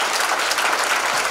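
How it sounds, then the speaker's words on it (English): A church congregation at a mass prayer service claps in a dense, steady burst of applause, loud and close, with no talk over it. "Clap for them very well."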